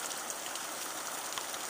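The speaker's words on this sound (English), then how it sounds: "She's out in the pouring rain," Heavy pouring rain falls outdoors over a garden with tomato plants, a dense, steady hiss of drops close around the microphone, with no voices.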